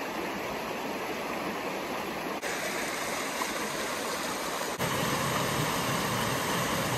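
Small waterfall beside a frozen lake on a winter hike, heard as steady, loud rushing and splashing water that continues unbroken throughout, with no talking.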